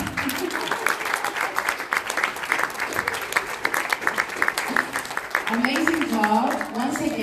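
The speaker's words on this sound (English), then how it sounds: "And applause!" Sustained applause from a crowd, dense clapping that continues throughout, with voices and cheering rising over it near the end.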